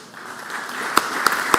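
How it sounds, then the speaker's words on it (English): A few scattered claps on the floor of the Mississippi Senate, sparse and light rather than a full ovation, with soft room tone between the claps. "Let's give them a round of applause."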